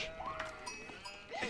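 Sheep bleating in the strategy game Age of Empires IV, a couple of short wavering bleats over a soft game backdrop, fairly faint and brief.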